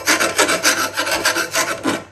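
A hand file rasps across the burred backside of a lawn mower blade in quick, rhythmic back-and-forth strokes, about a dozen close scraping passes with no talk.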